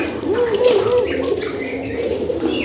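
A young racing pigeon, freshly caught and fairly tame, coos softly and rustles while held in hand, with brief wing movement and a low, continuous background.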